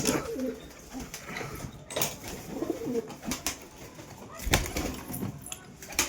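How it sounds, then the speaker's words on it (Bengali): Pigeons coo softly amid scattered rustles and bursts that sound like wings flapping as birds are released from a loft and take off. "পায়রাগুলো উঠছে আর আমি পায়রাগুলোকে কিন্তু ছেড়ে দিই"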